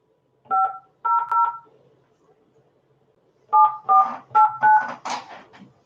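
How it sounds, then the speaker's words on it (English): Telephone keypad tones as an area code and number are dialed: a short tone, then a quick run of beeps, a pause, and another string of distinct beeps, close and clear with no talk. "You must dial the area code and the telephone number."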